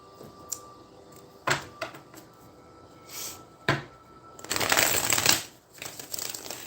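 Tarot cards are handled and shuffled at close range: a few sharp slaps and riffles, then a dense, louder burst of shuffling near the end, with no speech.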